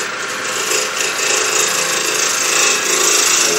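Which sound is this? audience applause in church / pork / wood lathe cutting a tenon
wood lathe cutting a tenon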